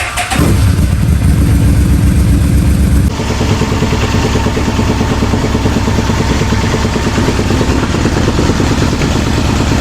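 Cheap muscle motorcycle bought at auction cranking and firing up, then settling into a loud, deep, throbbing idle rumble that holds steady nearby, with no one talking.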